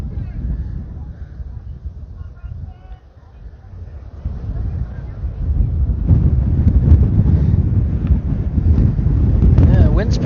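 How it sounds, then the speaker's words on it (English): Wind buffets the microphone at an outdoor youth baseball game as a low, rumbling roar that grows louder and gustier partway through, with faint voices underneath. "Yeah, wind's picking up again here."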